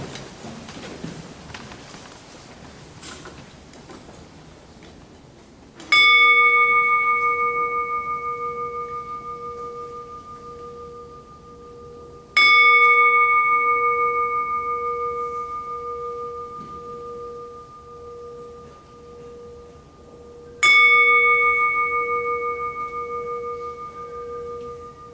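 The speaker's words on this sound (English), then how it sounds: "As is customary at Rotary, we have a 3-bell service." A bell struck three separate times for a Rotary three-bell memorial service. Each clear, close tone rings out and fades slowly before the next strike, in an otherwise quiet room.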